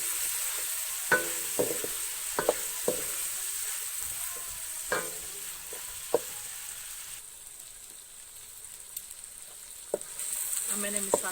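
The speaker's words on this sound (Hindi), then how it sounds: "अब मैंने मसाला भून लिया" Masala of dry coriander and ground garam masala frying in a pan, a soft continuous sizzle punctuated by scattered clicks and scrapes of stirring, no one speaking.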